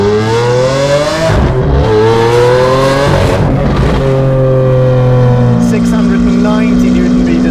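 Straight-piped Lamborghini Aventador S Roadster engine roaring loudly as it drives, with rising and falling revs, heard close while someone talks over it.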